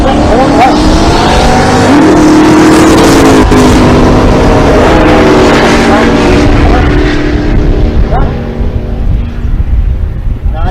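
Chevrolet Camaro drag racing down the left lane at Pueblo, Colorado, its loud engine rising in pitch through the gears before fading, heard under a track announcer's commentary.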